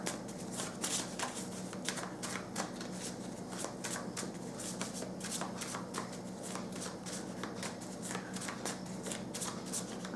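Tarot cards being shuffled steadily by hand for about ten seconds, a continuous papery riffling with rapid crisp flicks, moderately close and with no talking.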